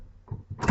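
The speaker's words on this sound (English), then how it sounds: "I'll close the door." A car door closes after a door handle repair, with a short plastic rattle and click followed by a firmer thump at the end, close by, with no talking.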